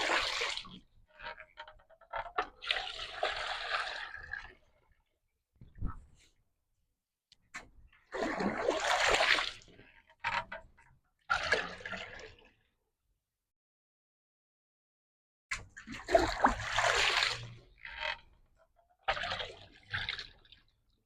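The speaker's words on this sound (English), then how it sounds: "I'm going to add water to this one." Water is poured into a Greenstalk garden tower in several separate bursts of splashing and trickling, with quiet gaps between the pours.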